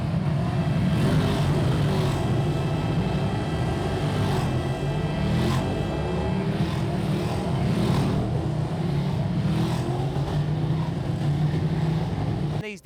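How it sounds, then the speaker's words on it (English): Ducati 959 racing motorcycles of about 145 horsepower on a race track, engines revving hard and continuously at close range, with rising and falling pitch as the bikes accelerate along the straights. "These Ducati 959s really do get going down those straights, about 145 horsepower."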